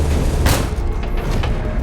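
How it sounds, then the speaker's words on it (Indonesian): Loud, deep bomb blast in a film scene, a heavy booming rumble that fills the whole moment without any speech. "Alhasil, bom pun meledak dan mengenai tubuhnya sendiri."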